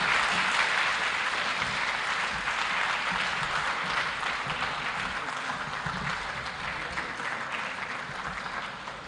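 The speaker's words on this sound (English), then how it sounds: "let's give His Excellency Thabo Mbeki another big round of applause" A large audience at an Africa Day lecture applauds Thabo Mbeki, giving a loud, sustained wash of clapping that holds steady across the whole stretch and fades only slightly toward the end.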